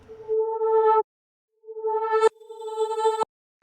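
A synth pad from Ableton's library sounds as two sustained tonal phrases, bright with stacked harmonics and cut by sharp clicks, separated by a short silence.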